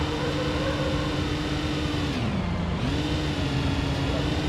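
Car engine in the BeamNG.Drive video game revving hard on nitrous along a straight road, a sustained mid-pitched drone that dips briefly then climbs again over steady noise.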